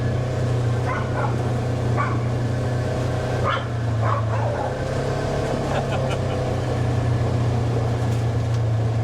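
A dog barks in short, separated bursts at a pond outdoors after an ice storm, while a constant engine-like hum drones beneath it and people talk nearby.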